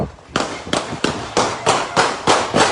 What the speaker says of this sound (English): What followed was a hail of gunfire in a shootout